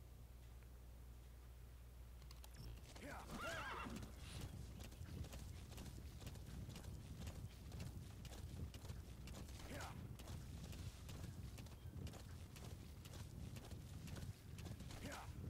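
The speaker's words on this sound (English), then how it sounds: "I will just stealthily mosey on by with my horse" Horse hooves clip-clop in a steady trotting rhythm in the video game Metal Gear Solid V: The Phantom Pain, close and fairly loud after a quiet start, with occasional creaks of tack and a neigh mixed in.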